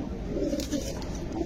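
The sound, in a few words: pigeons cooing in a cage, Benares breed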